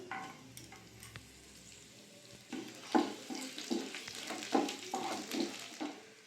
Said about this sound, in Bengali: এই তেলের মধ্যে দিয়ে দেবো দারচিনি, শুকনো লঙ্কা, জিরে, কুচনো রসুন,